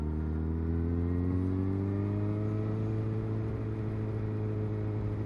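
Yamaha R1 sports motorcycle engine revving steadily, its smooth close exhaust note rising and falling with a strong low hum and no speech.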